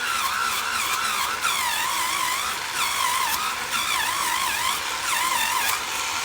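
Powered shower scrubber running while cleaning: a continuous high motor whine with wavering pitch and scrubbing noise, steady and close throughout.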